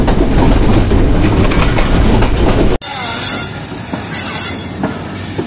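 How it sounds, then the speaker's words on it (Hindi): A train hauled by an EMD diesel locomotive, the Rehman Baba Express, rolls past loudly with a dense rumble and clatter of wheels on rails, then the sound shifts abruptly to a lighter rattling rush with faint squeals. "ILC का EMD लोकोमोटिव।"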